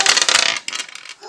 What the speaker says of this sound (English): Come on, roll the dice.